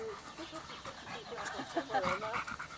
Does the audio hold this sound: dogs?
yes